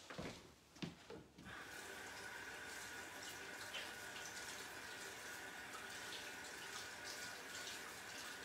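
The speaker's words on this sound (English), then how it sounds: "I'm just gonna wash my hands" A kitchen tap runs steadily while someone washes their hands during baking. After a brief splash at the start, the water settles into a continuous, moderately loud rushing stream with no talking.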